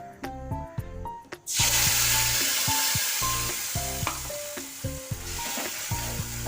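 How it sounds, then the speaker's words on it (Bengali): Ground paste of ginger, green chilli, tomato, cumin and coriander hits hot oil with a sudden loud sizzle that continues steadily, with rhythmic spoon scrapes and clinks against the pan over quiet background music. "মশলাটাকে ভালো করে কষিয়ে নিয়ে"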